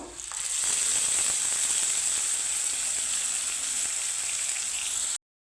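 Tomato hits hot oil tempered with black mustard seeds and curry leaves, setting off a loud, steady sizzle that rises within the first second and holds evenly for about five seconds before cutting off.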